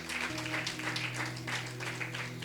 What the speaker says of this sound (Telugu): క్లాప్స్ కొట్టి దేవుని మహిమపరుద్దాం.